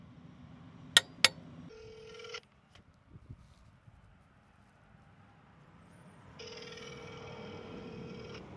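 Telephone keypad tones for a call about an NV5600 quiet dual disc clutch: two sharp key beeps, then two longer tonal bursts, likely ringback, separated by a quiet gap with faint background noise.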